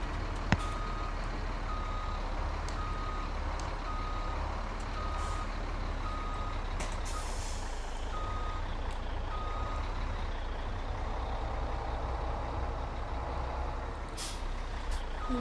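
A truck's reversing alarm in Farming Simulator 2017 beeps steadily in a regular pulse over a constant engine rumble, with a hiss of air brakes near the end.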